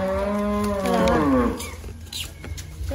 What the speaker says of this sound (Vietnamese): Con bò nó đói bụng rồi.